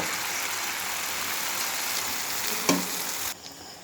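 Malpua batter spread into small portions and frying in hot oil in a wok, giving a loud, steady, close sizzle that drops off near the end.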